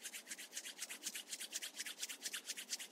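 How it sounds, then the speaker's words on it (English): Palms rubbed briskly together during a yoga breathing practice, a close, rhythmic swishing friction of about twenty quick even strokes, with no talk. "Rub your palms together."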